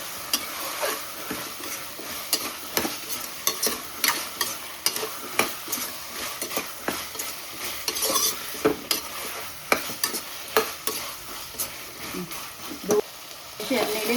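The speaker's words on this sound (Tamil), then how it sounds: "இதுக்கப்புறம் நம்ம எடுத்து வச்சுருக்க வெஜிடபிள்ஸ் எல்லாத்தையும் ஆட் பண்ணிக்கலாம். இதை ஒரு கிளறிடுங்க." Vegetables sauté in hot oil for a one-pot sambar rice, sizzling steadily while a ladle scrapes and stirs in repeated clattering strokes, close and moderately loud, without talking.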